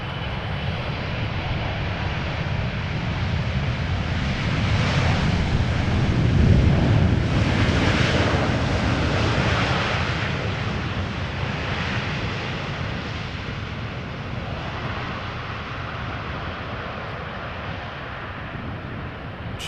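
An airliner lands in a crosswind at Amsterdam Schiphol Airport, its engine roar steady and loud for a long stretch, swelling slightly mid-way, with gusty wind noise on the microphone.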